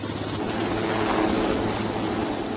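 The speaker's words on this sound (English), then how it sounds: "When a helicopter flies through the air, dust particles in the air bounce off the blades and the body of the aircraft." Helicopter flying through the air, a steady faint rotor and engine drone heard from a distance.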